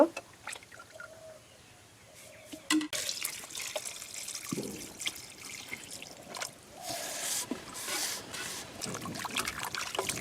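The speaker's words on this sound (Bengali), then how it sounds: "মাংসগুলো কাটা শেষ এখন আমি ধুয়ে নেব" Water from a tap splashes and trickles while freshly cut beef is rinsed for a North Bengal-style beef dish, with uneven pouring and spattering close by and a voice speaking at times.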